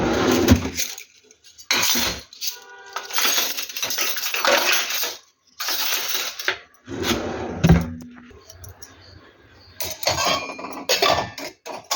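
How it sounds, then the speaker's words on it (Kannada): Washed, dry dishes are lifted out of a Bosch dishwasher, with irregular bursts of clinking plates, utensils and metal pots separated by brief quiet gaps, close by and without speech. "ವಾಶ್ ಆಗಿರೋವಂಥ ಪಾತ್ರೆಗಳನ್ನ ಡೈರೆಕ್ಟಾಗಿ ನಾವು ಇದರಿಂದ ತೆಗೆದು ಪಾತ್ರೆ ಸ್ಟ್ಯಾಂಡಿಗೆ ಜೋಡಿಸ್ಕೊಬೋದು"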